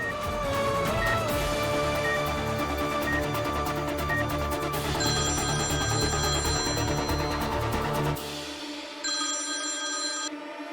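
Telephone ringing steadily and loudly over a dense musical background in a French-dubbed drama series, the repeated electronic ring tone continuing for several seconds before the music drops away and the ringing carries on alone.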